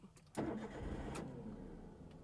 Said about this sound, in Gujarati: આ ચાવી ફેરવી એટલે ગાડી ચાલુ થઈ ગઈ છે.